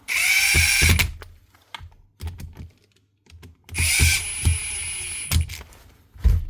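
An old, repaired Hitachi cordless drill whirs in two loud sustained bursts separated by clicks, knocks and handling noises, its high motor whine steady while it runs.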